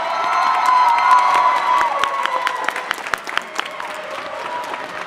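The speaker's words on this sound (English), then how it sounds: "please stand and allow our seniors to applaud you" Graduating seniors applaud their teachers and staff at a 2017 high school graduation ceremony, a dense wash of clapping with some cheers that swells early and then thins into scattered claps toward the end.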